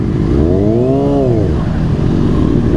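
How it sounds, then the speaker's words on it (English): A motorcycle engine revs up and back down in one rising-and-falling swell during rev bombing in Guwahati, loud and close over a constant roar of other engines. "We'll do a rev bombing."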